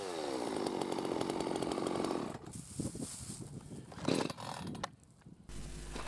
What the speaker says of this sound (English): As you can see, both these saws start, no worries.